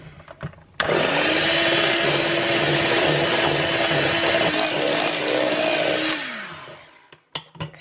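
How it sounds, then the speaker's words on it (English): An electric whisk blends cocoa powder and stevia into a sugar-free no-bake dessert mix, whirring in a steady motorized whine for about five seconds before winding down, followed by a few light clatters. "we'll just give that a whisk in"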